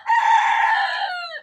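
A rooster lets out a single loud, close crow lasting over a second, sustained and then trailing off at the end.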